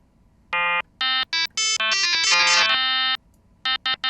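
An FM synth tone with the modulator operator turned up, played as a series of bright, bell-like buzzy notes in a quick melodic run, some short and staccato, a sustained cluster in the middle, no talking.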